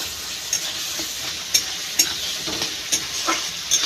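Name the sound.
stir-frying ginger paste and cumin with onions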